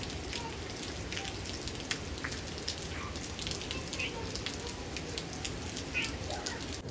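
Steady rain pours down over hillside paddy fields at harvest time, a dense continuous hiss of drops striking surfaces that holds evenly throughout, with no clear voices above it.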